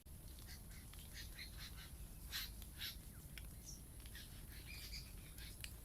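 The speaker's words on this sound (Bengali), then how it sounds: "গাছের ডালে ডালে পাখি ডাকছে তোমাদেরকে আওয়াজটা শোনাই একবার" Birds calling from tree branches along a pine-lined path at Gopgarh, Medinipur, with scattered chirps and calls at moderate distance over a constant outdoor hum, no talking.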